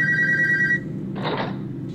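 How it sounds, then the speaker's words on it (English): A telephone rings in a video game, a clear electronic bell tone repeating for under a second, followed by a brighter burst of game sound over a steady low hum. "The phone will ring."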